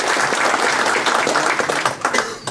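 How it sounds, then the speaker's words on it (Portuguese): An audience at an evening debate series bursts into sustained applause, many hands clapping densely and loudly before thinning out toward the end. "uma salva de palmas para o nosso debatedor do dia."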